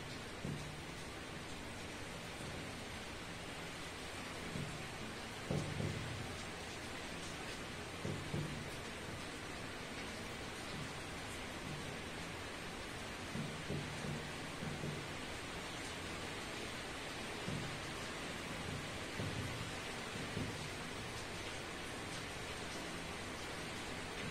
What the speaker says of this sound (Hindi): भाई साहब बहुत जोरों की बारिश हो रही है,